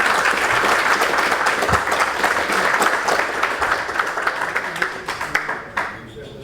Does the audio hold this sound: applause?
yes